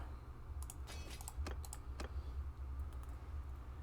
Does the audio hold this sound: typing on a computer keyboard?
yes